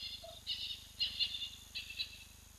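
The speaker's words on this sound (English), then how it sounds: "all the birds especially, are going to start chatting quite a bit now" Birds call around a dam in the African bush, giving three faint, high chirping bursts spaced about half a second apart over a steady, quiet background hum.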